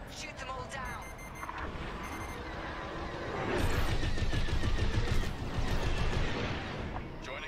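Starfighter laser cannons fire in the Star Wars Squadrons video game, a dense run of blasts and rapid bursts that grows louder midway, mixed with explosions and engine roar while a player talks over the action.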